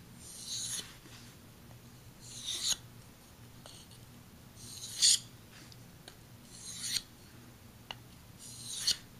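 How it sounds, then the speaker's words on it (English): A knife blade stropped across a water-splashed honing stone with very light pressure, giving five soft rasping strokes spaced about two seconds apart, close and fairly quiet over a low background hum. "I'm going to use a stropping motion on this."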